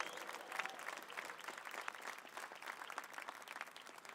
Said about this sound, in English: it's our job to give them one more round of applause, a raucous loud applause